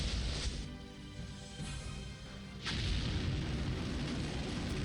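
Fighter bomber bombing runs in the Dawn of War Soulstorm strategy game, Orks against Chaos, heard as a dense, rumbling wash of booming explosions and gunfire that surges louder midway through.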